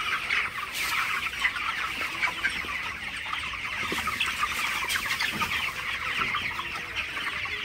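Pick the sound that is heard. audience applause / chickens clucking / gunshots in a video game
chickens clucking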